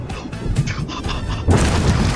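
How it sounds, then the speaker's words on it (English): Cannon fire strikes in the pirate video game Sea of Thieves, a loud crashing boom that rumbles on, with a second heavier impact bursting in halfway through. "I just survived the cannon."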